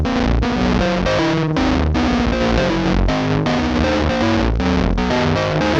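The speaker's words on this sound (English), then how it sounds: "how well this can act as a distortion pedal once you find a spot you like" A synth driven through an Evil Pumpkin pedal set up as a distortion gives a thick, buzzy, fuzzy tone. It plays a steady run of chopped rhythmic notes at constant loudness, with no talking.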